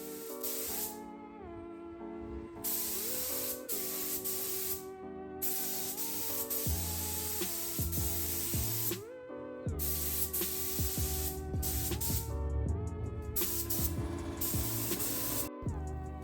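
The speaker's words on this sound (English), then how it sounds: "I'm applying a mist coat" Spray gun laying a mist coat of paint on a BMW E30 front valance, a steady hissing spray in bursts with brief pauses between passes, partly covered by background music.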